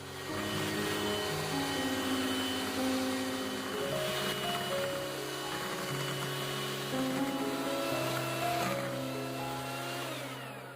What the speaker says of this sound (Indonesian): Mix semua bahan hingga mengembang, berwarna putih pucat, kental dan berjejak, sekitar 10 menit menggunakan kecepatan maksimal.